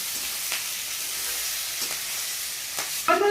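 Small fried fish and eggplant are stirred together in a hot pan, giving a steady soft sizzle with a few scraping stir strokes, then a brief louder clatter at the end.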